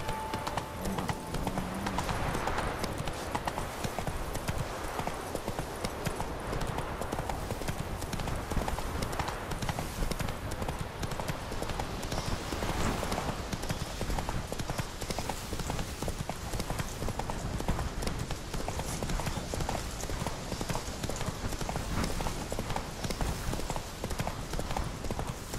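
Roach, the horse in The Witcher 3, gallops with rapid, rhythmic hoofbeats that stay close and steady throughout, with wind noise and occasional voices over the pounding.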